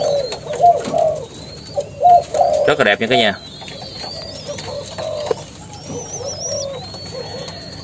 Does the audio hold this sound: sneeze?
no